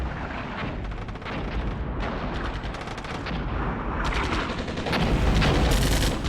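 Artillery fire in the Armored Brigade 2 war game: dense, continuous barrage of booming blasts and rattling gunfire, loud and sustained throughout with heavier impacts building toward the end.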